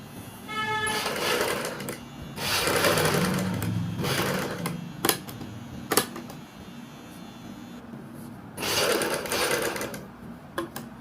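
A sewing machine stitches lace onto the peacock patches of a kurti neck, running in loud, close bursts of rapid whirring with pauses, clicks and sharp knocks between runs.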